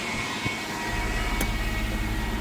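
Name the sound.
car engine revving at high RPM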